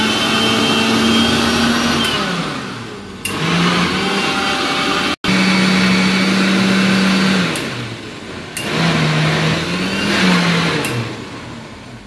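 A kitchen mixer grinder churns cream into butter, a loud, close motor whine running in long bursts with short pauses between, its pitch dipping and wavering as the load shifts.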